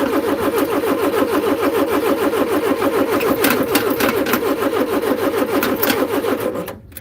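An old carburetted car engine with its choke on, starting up and running loud and steady at close range with a rhythmic chug for about six seconds before cutting off abruptly.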